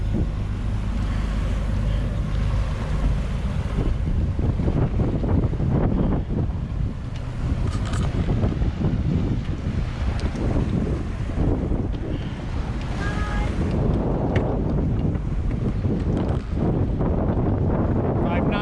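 A sailboat motor sailing close hauled into the wind near the Straits of Juan de Fuca, with steady wind buffeting the microphone, rushing water along the hull and a low engine drone throughout.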